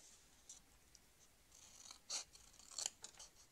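Scissors cut through card in a few quiet, close snips, faint scratching and rustles between the louder crisp cuts toward the end.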